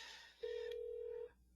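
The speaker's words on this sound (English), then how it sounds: "we're going to go ahead and make a phone call" A single sustained telephone dialing tone sounds for almost a second while a call is placed over a SIP trunk, clear and steady, preceded and followed by faint background hiss.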